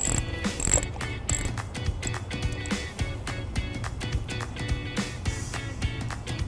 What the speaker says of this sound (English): take a 10mm socket, carefully put it over the nut on the positive side of the battery and take it off here